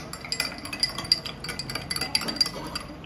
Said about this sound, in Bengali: তো তার জন্য ওদেরকে আমি এখন ট্যাঙ্ক ভরে দিচ্ছি